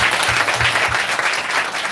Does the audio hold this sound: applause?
yes